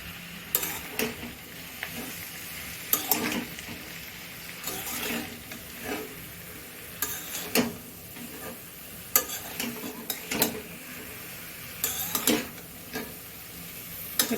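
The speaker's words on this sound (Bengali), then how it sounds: "এবার দেওয়া হবে বাঁধাকপি" Cabbage is stir-fried with fish head in a pan, producing a steady low sizzle with repeated sharp scraping strokes of a spatula at irregular intervals, close and clear with no talking.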